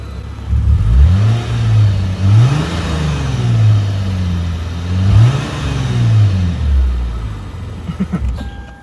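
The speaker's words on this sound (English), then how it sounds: "look how that sounds. It's a V6." A 2008 Lexus IS250 AWD's 2.5-litre V6 engine revs up and down repeatedly, rising and falling in pitch with a throaty growl, close by and loud, with no talking.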